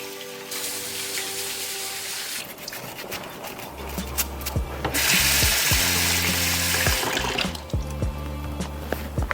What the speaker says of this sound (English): Now I'm just going to scrub them clean.